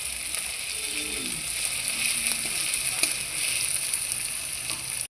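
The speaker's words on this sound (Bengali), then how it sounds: "পেঁয়াজটা ভালোভাবে ভাজা হয়ে গিয়েছে" Chopped onion frying in oil left over from frying pabda fish, with a steady close sizzle and hiss throughout and faint stirring clicks and scrapes now and then.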